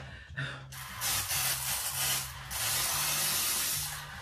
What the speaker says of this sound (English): A little bit more of a spray.